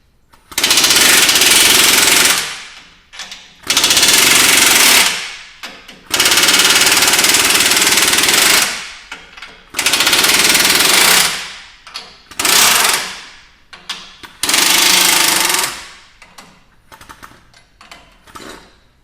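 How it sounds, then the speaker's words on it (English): A power impact tool loosens the rear axle U-bolts on a Toyota Tacoma during a lift kit install, loud rattling bursts of two to three seconds each, six of them separated by short quiet gaps, close up and without talk. "just loosen the U-bolts on one side."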